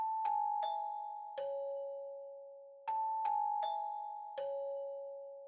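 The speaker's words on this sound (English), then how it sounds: "I added a Celeste bell in X-Band 2. And I pretty much laid down a short melody" A short, dry Celeste bell melody programmed in FL Studio with no effects: clear, bright chimed notes in two matching phrases, each note ringing and slowly fading, with no other sounds.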